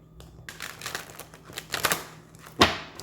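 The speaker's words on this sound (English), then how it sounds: "So let me get a good shuffle" A deck of tarot cards is shuffled by hand in a quiet room, giving several short riffling and flicking bursts and a sharper snap near the end.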